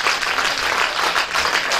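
A seminar audience claps together in a brief, dense burst of applause that holds steady and loud for under two seconds, with no talking over it.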